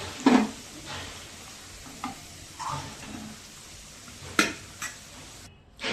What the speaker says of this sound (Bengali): এবার আলুগুলোকে একটু লাল লাল করে ভেজে নেবো